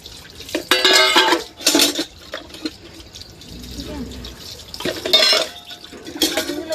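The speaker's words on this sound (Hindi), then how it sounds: "अपना बर्तन धुल लेते हैं" Dishes being washed with water in a village kitchen in India: bursts of running, splashing water and clinking utensils come and go in several loud spells, with a voice talking briefly between them.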